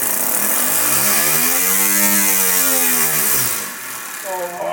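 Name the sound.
Lego air-powered pneumatic engine running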